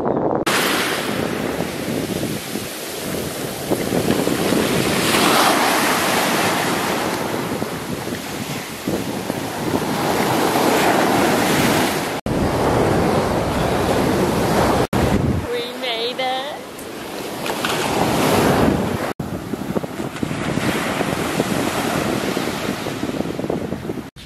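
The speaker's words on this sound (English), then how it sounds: "It's a little windy today" Strong wind buffets the microphone continuously with a roaring rush at a beach, surf churning underneath, and a few abrupt dropouts break the noise.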